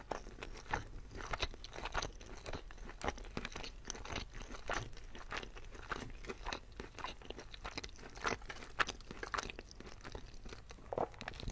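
Close crunching and chewing of fresh Lebanese falafel, deep-fried chickpea balls with a crispy crust, with repeated crisp bites and steady mastication sounds throughout, heard intimately and with no talking.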